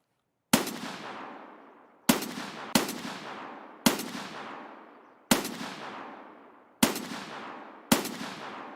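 Single gunshots fired with RIP rounds in the video game Escape from Tarkov, seven loud, well-spaced reports, each with a long decaying echo, and no speech.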